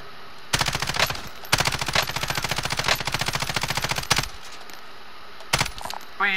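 Rapid automatic gunfire rattles in the Call of Duty: Warzone video game, coming in two long, loud bursts followed by a brief short burst.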